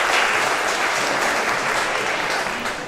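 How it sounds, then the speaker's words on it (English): Spectators at a 4-wall handball singles semi-final applaud and cheer, producing a steady, dense patter of clapping that eases slightly toward the end. "Definitely has the support of the crowd here"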